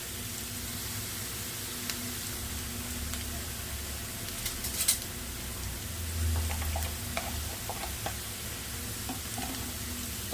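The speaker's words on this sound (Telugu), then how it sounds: "ఉల్లిపాయ అయితే కొంచెం వేయగాలి, కాసేపు వేయించుకుందాం." Chopped onions for egg bhurji fry in a pan, a steady soft sizzle running throughout with occasional stirring scrapes and clicks, close and fairly quiet, no talking.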